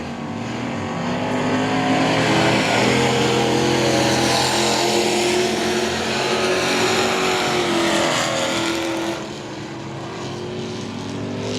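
Texas dirt trucks racing in a truck series event at I-37 Speedway, their engines a loud, continuous, droning roar that rises and shifts slightly as the pack passes, with no voices.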